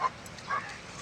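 A dog gives two quick, faint yips in an outdoor home setting, short sharp barks some distance from the microphone with quiet background noise between them.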